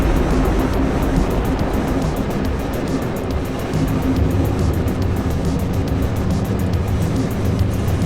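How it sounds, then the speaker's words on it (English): Solid rocket booster firing in Kerbal Space Program, a dense, steady roaring rumble that holds at full loudness throughout with no pauses. "Solid booster ignition and release."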